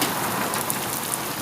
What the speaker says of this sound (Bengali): প্রচুর বিজলি চমকাইতেছে এবং শিলা বৃষ্টির মতো হচ্ছে